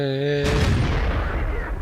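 A loud, deep tank cannon blast from the T-44 in World of Tanks booms and rumbles away, cutting off a steady electronic tone just before it.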